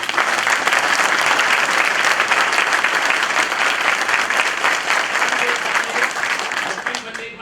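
Loud, dense applause from a large audience at a Bar Council of Delhi enrolment meeting, sustained clapping that continues evenly for several seconds before beginning to thin out.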